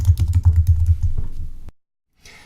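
Rapid, uneven clacking of keys on a computer keyboard, close and fairly loud, runs for under two seconds and then breaks off into silence, with a brief faint noise near the end.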